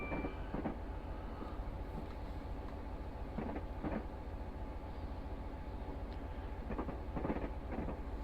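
A Class 66 diesel locomotive in Train Simulator Classic on the York to Newcastle run, a steady low engine rumble with faint rhythmic clicks of wheels over the rails and no talking.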